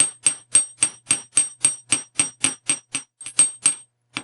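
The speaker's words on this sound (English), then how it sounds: "And as I hammer, I really watch what I'm doing." A hammer strikes metal close up, smoothing it near a bead, in a steady run of about sixteen sharp, ringing blows at an even pace with no talk.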